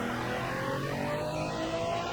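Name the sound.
car engine revving as it launches, from a video game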